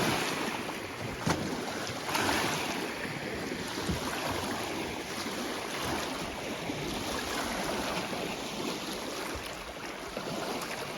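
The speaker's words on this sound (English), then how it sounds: "it's extremely windy on this lake today, and the waves are not in our favor" Strong wind buffets the microphone on a boat ride across a Newfoundland lake, with waves slapping and rushing in a loud, continuous broadband roar with occasional sharper gusts and splashes, no talk.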